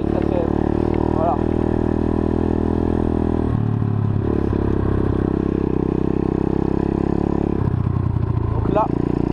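A YCF 125 pit bike engine drones steadily near at hand, pitch dropping and climbing again at each gear change as it shifts up, while someone talks over it.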